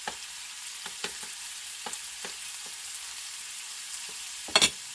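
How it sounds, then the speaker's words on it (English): Bacon and peaches cook together in a pan with a steady, faint sizzle, broken by a few soft utensil taps and a sharper clatter near the end. Nobody speaks. "I'm just going to throw that in the middle of the pan and let that cook while the peaches cook down a little bit"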